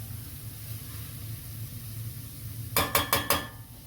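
A spoon scrapes and clatters in a pan of softening onions for a Goan crab curry, four quick sharp knocks and scrapes near the end after a quiet stretch of low kitchen hum.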